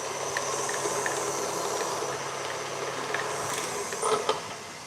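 A stand mixer creams vegan butter and sugar for soft chocolate chip cookies, giving a steady, loud whirring hiss throughout with a few small clicks and a brief louder rattle near the end; no one speaks.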